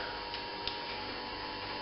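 A Robobrew brewing system pump runs with a steady, even hum close by, a couple of faint light ticks sitting on top of the constant drone.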